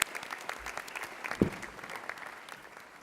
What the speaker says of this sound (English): Can we just have a quick round of applause as we get some little gifts out?